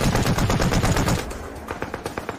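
Machine gun fire in a war film comes as a dense, loud rapid burst that breaks into sparser, separated shots, close and without speech.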